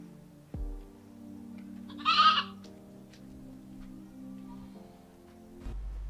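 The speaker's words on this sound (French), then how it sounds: "à qui appartient cette chèvre?" A goat gives one short, nasal bleat in the middle, heard indoors over quiet background music in a Nigerian drama, with a few soft knocks and thumps around it.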